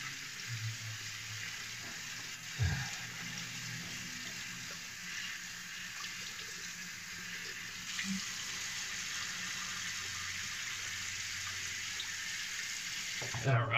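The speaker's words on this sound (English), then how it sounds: "more hot water to the face." Hot water runs steadily from a bathroom tap during a wet shave and is splashed onto a face, with a constant close hiss of flow and a few brief splashes.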